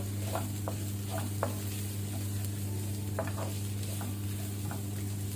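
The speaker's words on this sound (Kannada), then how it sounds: "ಸೊ ಇದನ್ನೀಗ ಲೋ ಫ್ಲೇಮಲ್ಲಿ ಸ್ವಲ್ಪ ಫ್ರೈ ಮಾಡುವ, ಮಸಾಲ ಸುಡಬಾರ್ದು." Chilies and turmeric masala fry gently in a pan over a low flame, giving a steady soft sizzle with a few scattered light clicks of stirring and no talking.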